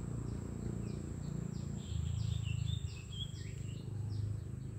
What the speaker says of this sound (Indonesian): itu burung truwak mungkin itu ya